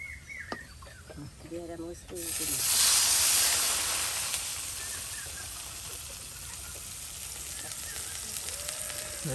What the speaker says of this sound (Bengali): আপনার পেঁয়াজ রসুন সব থেকে সুন্দর করে ভাজা হয়ে গেছে